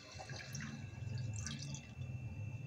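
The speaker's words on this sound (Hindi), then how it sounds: "इहदे विच मैं एक गड़बी पानी दी पावांगे" Water pours from a small metal jug into moong and masoor lentils in a pot on a gas stove. It makes a steady, soft splashing gush close by and quiet, with a faint hum underneath.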